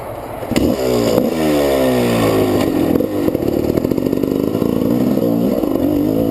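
A GasGas two-stroke motorcycle engine revs loud and close, its pitch sweeping up and down through repeated throttle blips with a rattly, buzzy tone and no talk.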